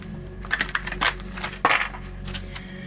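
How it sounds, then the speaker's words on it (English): Numerology cards being shuffled for a spiritual reading, giving a run of quick papery riffles and soft slaps at close range, with a couple of louder bursts and no talking. "I'm going to shuffle again here just to freshen the energy up to date."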